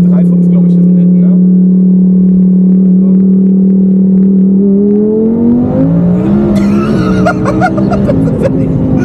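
A 1200 hp Audi R8 biturbo accelerating hard with all four wheels spinning, a loud, steady engine drone rising in pitch toward the end, with excited voices and laughter over it.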